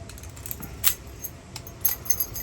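Keys for a new composite door lock jangle in a few short metallic bursts, close up and moderately loud over a quiet room, with no talking.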